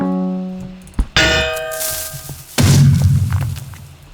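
A mortar firing in a video game, a ringing tonal hum cut by a sharp thump and a metallic launch clang, followed by a rumbling boom and fading whoosh.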